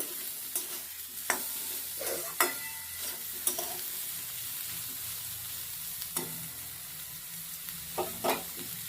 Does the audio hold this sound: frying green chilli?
yes